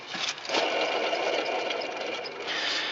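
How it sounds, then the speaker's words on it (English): A worn, noisy pulley spins on the engine of a GMC Safari van with the belt removed, giving a steady whirring, grinding hum that wavers slightly, close and fairly loud. "as you can see, that pulley is quite noisy"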